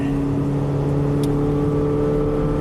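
A Chevy Captiva engine holds a steady, loud drone at full throttle under load, with a constant mid-pitched hum and no talking.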